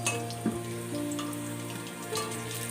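Potatoes fry in oil in a kadai, making a soft, steady sizzle with a few small crackles and pops, quiet and with no voices.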